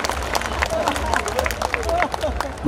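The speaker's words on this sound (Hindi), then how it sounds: "जोरदार तालियां बजे मनोज गुर्जर की।" Applause and scattered cheering from a crowd at a Diwali fair poetry recital in Udaipur, honoring poet Manoj Gurjar; dense steady clapping with voices mixed in and whistle-like cries throughout.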